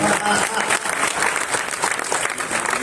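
A poetry gathering audience at a kavi sammelan in Kashipur breaks into thick, sustained applause welcoming a poet, a loud wash of many hands clapping at once without letup.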